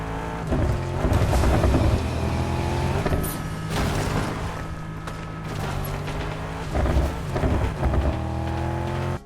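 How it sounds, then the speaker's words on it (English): Aura car in Fortnite, its engine droning loudly and steadily while the exhaust crackles and pops in repeated sharp backfire bursts, close and continuous throughout. "I think the most interesting thing is it backfires a lot"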